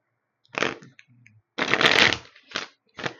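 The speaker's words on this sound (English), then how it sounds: "I shuffle in between laying the cards out" Crisp riffling bursts of tarot cards being shuffled, three or four quick flurries separated by short silences, close and clear with no talking.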